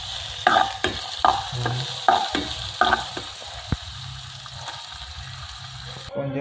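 Ginger sizzles in a heated pan for chicken wings tinola, a soft frying hiss broken by several stirring clacks near the start. A brief spoken word comes near the end.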